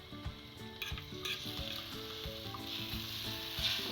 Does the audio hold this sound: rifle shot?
no